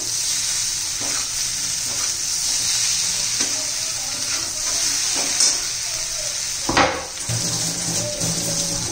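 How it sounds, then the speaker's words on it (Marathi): Okra and potato curry sizzles steadily in a hot pan while a spoon stirs and scrapes through it, with a few louder metallic knocks against the pan near the end; no talking. "चांगले आता एकदम मिक्स करून घेऊया"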